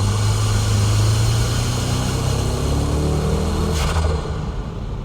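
A Nissan S14 drift car running on a wet track while warming up its tires and brakes, a loud steady engine drone with a low rumble that eases off slightly toward the end.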